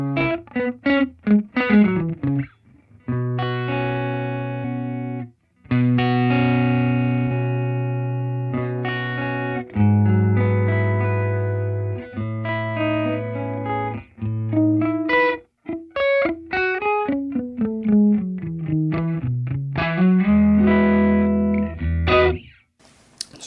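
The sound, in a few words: dual delay stereo effect on Line 6 Pod GO guitar processor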